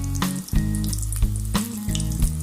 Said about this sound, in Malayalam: ഇത് നമുക്ക് എണ്ണയിൽ ഇതുപോലെ പൊരിച്ചെടുക്കാം.